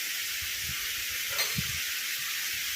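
Tomatoes sizzle steadily in a hot pan, a constant bright hiss with faint low knocks of stirring, close by and without any talking.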